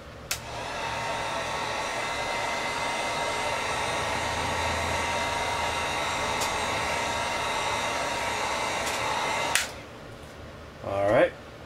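A hair dryer runs steadily and fairly loud, blowing over fresh paint on a Reliant scale model car, with a couple of small clicks and a brief shift in tone near the end.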